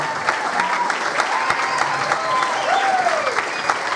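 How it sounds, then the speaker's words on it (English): Audience applause at a high school jazz concert, steady, dense clapping from a crowd that fills the room, fairly loud and sustained with occasional whistles. "Nathan, take another round of applause."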